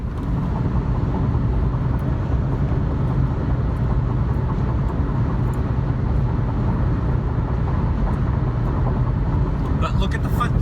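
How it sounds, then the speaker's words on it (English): Steady, dense roar of heavier traffic on the I-275 highway near Tampa, a continuous broadband wash of passing cars that stays loud and unbroken throughout, with a few brief higher clicks near the end. "Traffic starts to get a little heavier."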